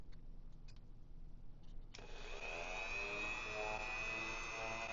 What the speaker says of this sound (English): you can see how black that Dremel bit is getting. It's a wool polishing cylinder that I have on there.